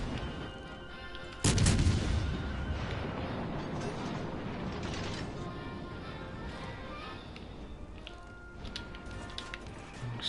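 A warship in a naval video game fires high-explosive shells: a sudden heavy boom followed by dense, rumbling battle noise and distant crashes that keep going steadily.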